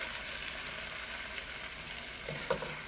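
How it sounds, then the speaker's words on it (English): Steady frying sizzle of a Roma tomato sauce in a pan, with soft stirring scrapes and a brief louder clink near the end; no voices. "You can just stir this all around"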